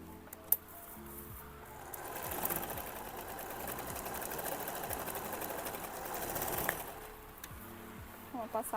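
Sewing machine running a safety seam through denim scraps, a continuous fast mechanical whir for several seconds, moderately close, with brief clicks before and after the stitching run.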